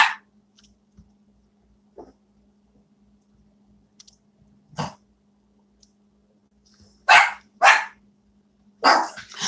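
A dog gives a few sharp, loud barks near the end, spaced in quick single bursts after a mostly quiet stretch with faint clicks and a low steady hum.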